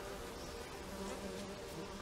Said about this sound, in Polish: A bo to pszczoły są.